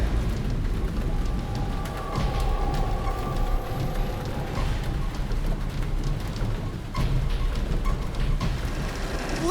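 Steady rain hisses down on a truck during a storm at night, a dense continuous patter with no voices, with faint low rumbles beneath.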